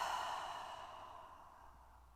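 A single long exhale during a yoga session, a soft breathy sigh that fades away over about two seconds.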